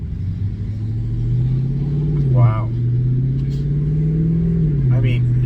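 Ford Mustang exhaust revving up and easing back twice, a deep throaty note close by, with a short exclaimed word from a man partway through.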